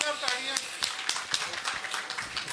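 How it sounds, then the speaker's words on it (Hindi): At a meeting with traders in Jalandhar, scattered applause of a few clappers rises briefly under and between a man's speech. "जोरदार तालियां जी एक बार।"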